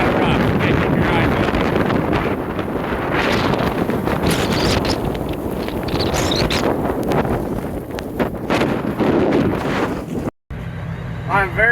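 Blizzard wind buffeting hard and continuously during sheep feeding in Kansas, a loud roaring gusty rush at close range, with a voice heard briefly near the end.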